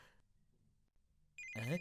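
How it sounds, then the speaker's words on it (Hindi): A telephone rings once in a brief burst near the end after a quiet stretch, loud and close, with faint background murmur before it. "रिंग बज रही है, रिंग बज रही है"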